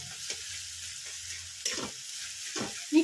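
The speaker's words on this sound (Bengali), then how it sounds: "এখানেই ডিমটা এরমভাবে ভাজা হয়ে গেল।" Egg frying in a home kitchen pan for mixed fried rice, with soft steady sizzling broken by a few louder stirring scrapes and clatters near the end.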